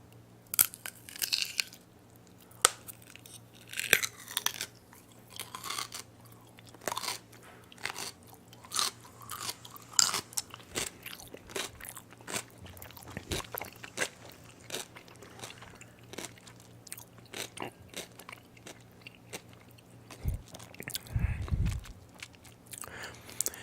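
Crisp, close-up crunches of someone biting into and chewing tart dill pickles, repeated wet bites and mastication with no talking.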